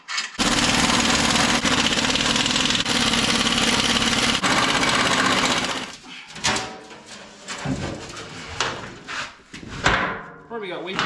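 A Kenworth T370 truck engine runs loud and steady for about six seconds, then cuts off, leaving scattered clunks, knocks and movement sounds with someone speaking.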